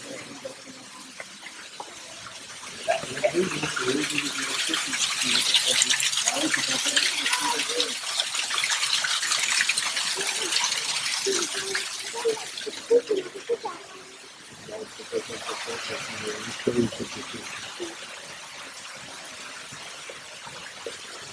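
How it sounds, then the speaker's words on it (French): Waterfall inside a Center Parcs dome, a broad, steady rush of falling water that swells and fades, with people talking over it. "Il y a une belle cascade."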